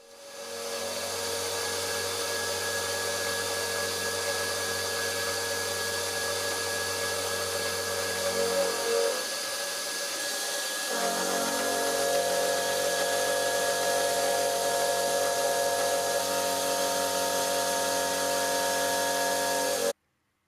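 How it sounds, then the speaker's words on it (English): A power drill bores screw holes into the wood of a bass guitar cabinet, a continuous whirring drone that briefly dips and shifts pitch midway before resuming steadily, with no voices. "Just drilling some holes to put the screws in to mount it"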